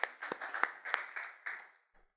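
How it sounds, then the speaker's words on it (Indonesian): A church congregation at a Sunday service claps hands in a short, faint, fading run of about six sharp claps. "Tepuk tangan dulu buat Tuhan."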